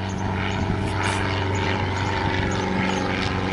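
A propeller airplane doing a touch-and-go at Sorocaba airport holds a steady, loud engine drone with a buzzing prop tone for a few seconds, continuous and alone, without speech.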